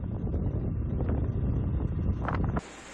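Strong wind from a sandstorm in Konya buffets the microphone, a loud continuous roaring rumble with gusty rustling that drops off abruptly near the end.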